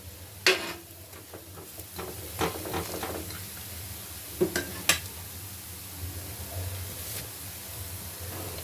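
Spinach pancakes fry in a pan with a low steady sizzle, broken by sharp scraping and clinking of a spatula against the pan at irregular moments, close and clear with no talking.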